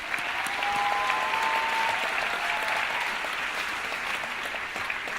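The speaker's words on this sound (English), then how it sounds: "So give yourself a round of applause for being present." An audience at an evening kickoff event on prison reform claps steadily, a dense, sustained burst of applause that slowly thins out.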